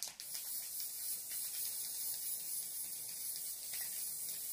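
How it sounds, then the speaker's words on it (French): Spray glue hisses continuously from an aerosol can while crochet embellishments are prepared, a steady close hiss lasting the whole moment with no talking. "Je mets du spray."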